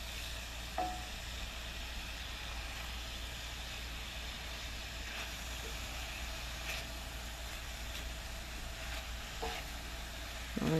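Green beans and bok choy sizzle steadily in olive oil in a stir-fry pan, a continuous close frying hiss with a few faint clinks of utensils.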